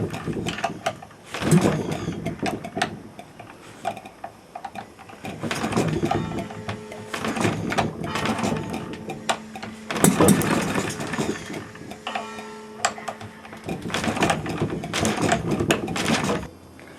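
A small gas-fuelled engine runs with an uneven, pulsing clatter that rises and falls in bursts, loud and close, with no voices over it.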